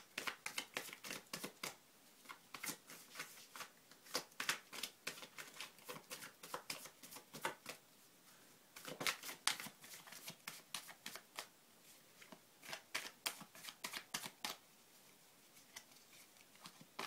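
Cards are shuffled again and again in quick riffling bursts, close and fairly quiet, with short pauses between rounds.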